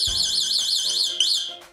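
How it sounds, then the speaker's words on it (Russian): Anti-theft alarm of a Kugoo M4 Pro electric scooter sounds alone as a loud, close, rapidly warbling electronic siren, with a brief restart of the tone near the end. "Сигнализация сработает при малейшем механическом воздействии или попытке включить самокат."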